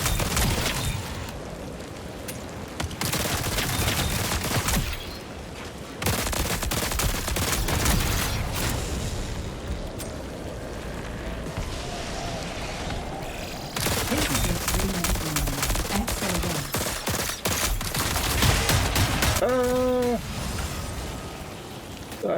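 A Demolition HMG heavy machine gun fires in a shooter video game in long, dense sustained bursts with short breaks between them, loud and close, while a voice talks over the gunfire.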